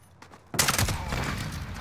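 Rapid gunfire bursts out abruptly in a Modern Warfare Hardpoint match, a dense crackling volley following a quiet moment.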